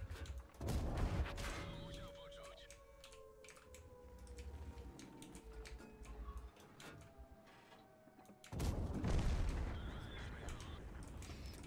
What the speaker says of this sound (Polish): Największe zagrożenie to są arty. To jest strzał z środka.